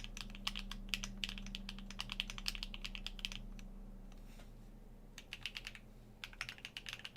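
Close, quiet typing on an AKB Petrichor mechanical keyboard fitted with HMX Hades switches and Osume Kanagawa keycaps, rapid clacky keystrokes in bursts with a short pause in the middle, over a low steady hum.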